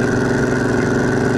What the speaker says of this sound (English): can hear the exhaust and it has a nice sound to it.